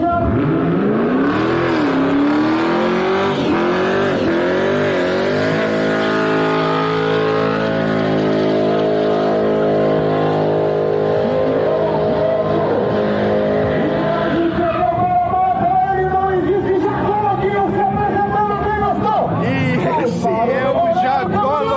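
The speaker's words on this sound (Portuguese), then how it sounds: "Olha aí quem entrou na pista, Jacó Louquinho, o seu Camaro." A Chevrolet Camaro at an amateur drag-style street event roars with a loud, continuous engine note that climbs through revs and shifts, then drops, with crowd chatter and talk in the background.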